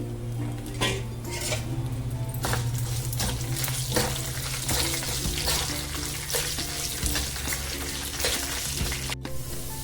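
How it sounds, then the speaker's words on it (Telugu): A tempering of garlic and asafoetida fries in oil for a tomato chutney, a steady close sizzle running throughout with scattered clinks and taps of utensils against the pan. "పోపు వేగింది."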